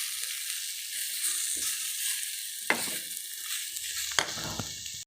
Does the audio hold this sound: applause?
no